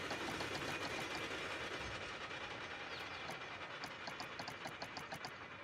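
A mine train roller coaster running in the Planet Coaster video game, a steady rumbling roll of the cars along the track with a quick run of clicking lift-chain or drive-tire ticks toward the end.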